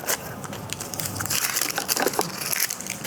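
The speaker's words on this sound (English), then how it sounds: "covering that I've destroyed there" Paper packaging around a Surface Laptop 5 power brick is torn and crushed up close, giving a dense, scratchy crackle with brief rips and crinkles throughout; no talk.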